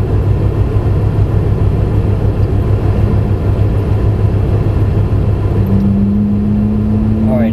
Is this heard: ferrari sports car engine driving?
yes